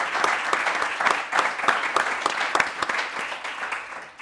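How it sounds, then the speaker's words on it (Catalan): An audience at a book presentation breaks into warm, continuous applause, with many hands clapping steadily before the sound gradually thins out. "aquí crec que és més aplaudiment"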